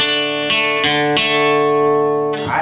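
Acoustic guitar strumming a passage of a song, a few ringing strummed chords spaced apart, close and clear with no voice.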